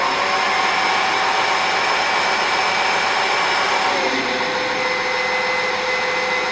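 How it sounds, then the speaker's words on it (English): Small electric pump draws old power steering fluid out of a Jeep Cherokee XJ reservoir, a loud steady whining drone with a constant hum, close and unbroken throughout. "You'll see it sucking the old, kind of crappy looking power steering fluid out."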